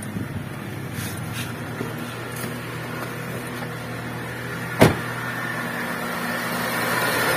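A car engine idles steadily and smoothly at close range after a noise fault was repaired, with a low even hum and one brief sharp click partway through.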